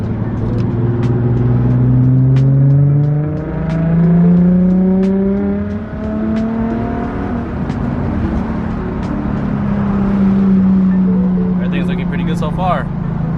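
An Infiniti G35 sedan on a test drive, its engine droning and rising through the gears with steady interior road noise and faint ticking, loud and close from inside the car.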